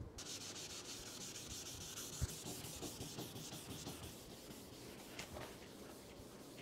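Steady abrasive sanding of a car headlight lens to strip its old clear coat, a continuous gritty rubbing hiss with rhythmic back-and-forth strokes, close and fairly loud, with no voices.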